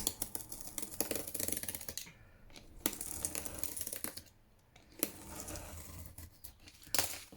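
A blade trims paper along a ruler in close, quiet scraping and cutting strokes, irregular crisp ticks and rasps broken by short pauses.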